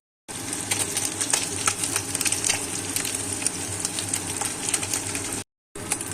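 Small kachki fish frying in oil in a pan, a loud continuous crackling sizzle close up with faint clicks, cut by a short silent gap near the end.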